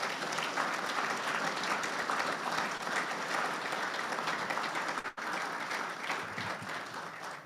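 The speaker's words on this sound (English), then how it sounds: "Ladies and gentlemen, please join me in a round of applause for all of the people behind the scenes who made this" An audience at the MCA Ammo Tech awards ceremony applauds in a long, even round of clapping that fills the hall, with a brief dip near the end before it continues.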